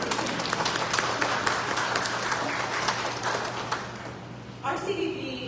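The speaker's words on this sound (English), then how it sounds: "Let's give you all a round of applause" Round of applause from a convention center audience, a dense steady wash of many hands clapping throughout, thinning near the end as a voice begins under it.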